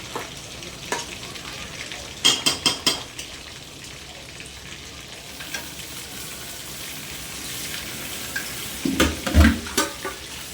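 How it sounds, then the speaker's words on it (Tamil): Tomatoes cook in a pan with water added for home-style chicken biryani, giving a steady background sizzle broken by bursts of clinking utensil strokes and stirring, first briefly and then again toward the end. "கொஞ்சம் தண்ணி நம்ம சேர்த்துக்கலாம், ஏன்னா இப்போ வந்து தக்காளி நல்லா வதங்கணும், அதனால் தண்ணி சேர்த்துக்கலாம்"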